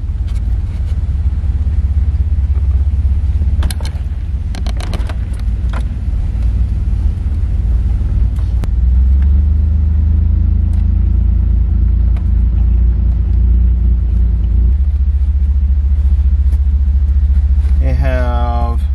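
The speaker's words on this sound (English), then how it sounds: "But we're going to drive around and see what we can find." A car rolls slowly around a primitive campground at Perch Lake, its engine a steady low rumble close up with occasional thumps and rattles over rough ground.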